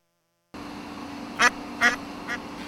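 Ducks at a man-made pond at a wildlife care centre give three short quacks over a steady outdoor background, fairly close, with no talk.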